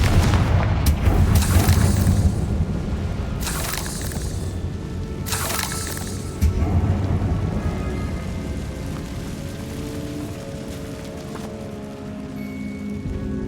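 A Confringo fire spell bursts in Hogwarts Legacy, booming several times across the clip, with the strongest blasts near the start and a steady rumbling bed in between and no talking.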